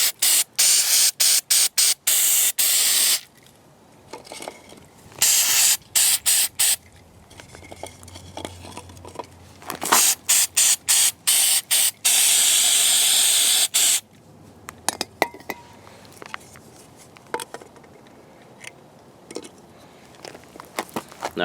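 Cleaner sprays onto the mass airflow sensor of a 2002 Nissan Maxima in sharp, close hissing bursts. Rapid short squirts alternate with a few longer sustained sprays, separated by brief quiet gaps.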